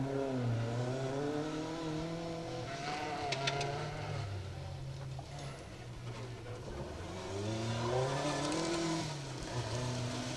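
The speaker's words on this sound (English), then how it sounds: "It's the Escort, the Fortis Island Limited sponsored car of Alan Young and Ashley Young" A Ford Escort rally car racing on a gravel stage of the Woodpecker Stages Rally 2023, its engine revving and rising and falling in pitch as it passes, loud and continuous.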